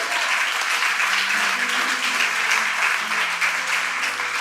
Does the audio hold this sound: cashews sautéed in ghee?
no